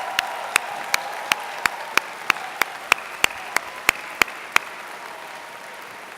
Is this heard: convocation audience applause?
yes